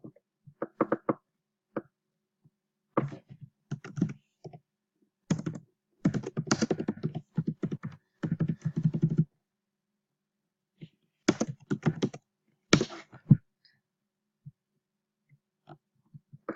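Someone types on a computer keyboard close by, in irregular bursts of rapid key clacks separated by pauses of silence.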